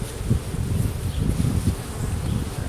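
Honey bees buzzing steadily around an open hive during an inspection as a frame is cleared of bees, a dense low droning swarm close to the microphone, with no talking.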